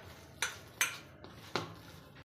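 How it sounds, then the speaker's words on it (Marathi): Onion bhaji batter with rice flour is mixed in a bowl, heard as three or four separate sharp clinks and knocks of a utensil against the bowl, spaced out and close by. "हे सर्व मिक्स करून घेऊया।"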